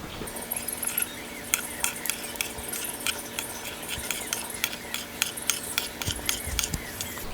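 A spoon back lifts and scrapes crisp papad made from rice starch off a plate, producing a run of small irregular clicks and scratchy taps, close and fairly quiet, with no talk.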